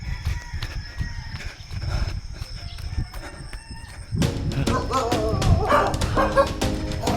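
Dogs barking in sharp bursts, several animals at moderate distance, growing louder and busier partway through over outdoor background noise.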